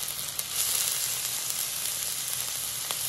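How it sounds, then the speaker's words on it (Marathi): Mustard seeds and ginger-garlic paste fry in hot oil, giving a loud, steady, close sizzle that crackles continuously throughout with no voice over it. "आता इथं तेल गरम झालेलं आहे, ह्याच्यामध्ये आपल्याला घालायचं आहे मोहरी, आलं लसूणची पेस्ट"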